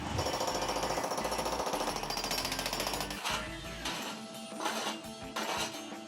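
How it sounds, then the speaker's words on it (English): Loud, continuous jackhammer pounding rapidly against concrete, close by, with brief pauses and shifts in intensity partway through. "we have to jackhammer a bunch of concrete to get back in there"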